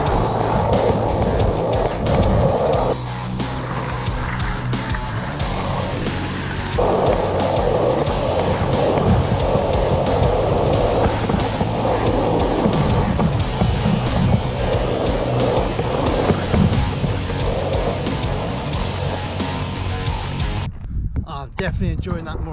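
An Andy Anderson skateboard, a deck only slightly wider than 8.1 inches, cruises around a skate bowl. Its wheels make a loud, continuous rolling roar with surging swells for about twenty seconds before cutting out abruptly.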